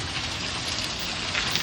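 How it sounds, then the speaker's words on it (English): Hail falling outdoors during a Texas storm makes a steady, dense patter of small impacts, continuous and fairly loud with no talk. "But it's not actually, it's still hailing."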